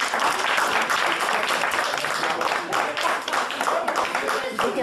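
Guests at a family birthday party in Lachamp-Raphaël clap together in a full, continuous round of applause, loud and close, with voices mixed in among the clapping.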